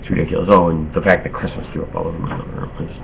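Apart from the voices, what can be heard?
No everyday noise stands out behind the speech.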